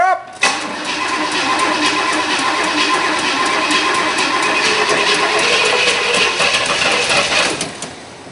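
A Pontiac GTO engine with a sticking choke cranks briefly and catches, then roars loudly and steadily close by inside a warehouse, revved hard until it cuts off near the end.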